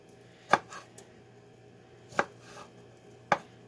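A knife chops partially frozen chicken into bite-sized pieces on a cutting board, with three sharp, close chopping thuds spaced irregularly over a quiet background.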